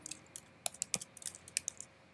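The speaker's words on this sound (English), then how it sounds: "So if I go in and type in Impact," Typing on a computer keyboard: a short burst of quiet, close, irregular key clicks alone in a still room.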